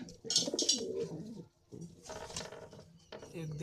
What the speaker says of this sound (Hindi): अभी सब क्रूस में है कबूतर, कुछ कबूतर क्रूस में है।